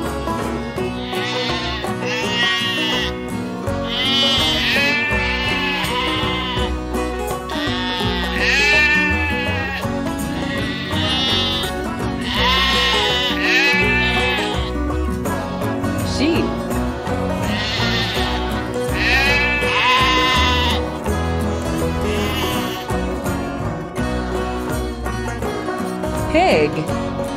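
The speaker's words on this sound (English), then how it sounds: "Sheep." Sheep bleating loudly and repeatedly in quavering calls, one after another over nearly half a minute, set against a steady musical backing track.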